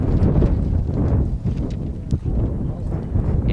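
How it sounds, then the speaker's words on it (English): Strong wind gusts buffet the microphone at an outdoor high school baseball field, a continuous heavy roaring rumble that swells and dips without any clear voices. "that sound you hear in the background, folks, is the wind gusts"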